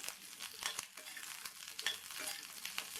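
Cut eggplant sautéing in oil in a pan for an oil-eggplant kurma, a soft crackling sizzle with faint stirring scrapes, quiet and steady with no voice.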